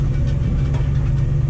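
A farm tractor's engine and exhaust run at a steady, unchanging idle, a close, continuous low rumble with no voices.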